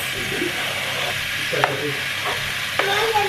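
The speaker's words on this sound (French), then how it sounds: "Et là je remue tout à nouveau pour bien mélanger." Parsley, garlic and tomatoes stirred in a frying pan: a steady close sizzle with a few sharp scrapes and taps of the utensil against the pan.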